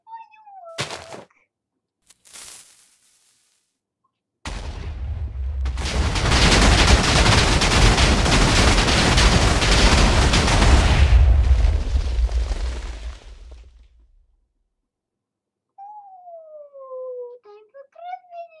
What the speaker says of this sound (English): Time for TnT firework!